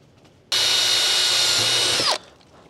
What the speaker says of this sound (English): I have to drill holes 16 inches on center in these aluminum extrusions